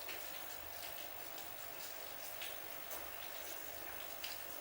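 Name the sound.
rain falling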